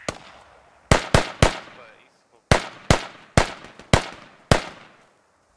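Grenade blasts in a team-based online shooter match, heard as a series of about eight sharp, loud explosive bangs with quick decays, some in close pairs, separated by short quiet gaps.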